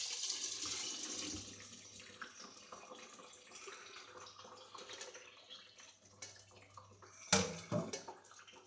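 Water is poured into a pot to rinse out leftover blackberry juice while homemade blackberry wine is being made. A steady close splashing and trickling runs throughout, ending in a louder burst of pouring near the end.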